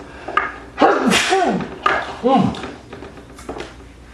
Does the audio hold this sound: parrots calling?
no